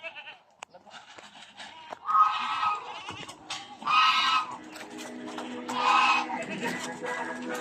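A goat on a rural farm bleats three times in drawn-out wavering cries at moderate distance, with faint background sounds and brief clicks between the calls.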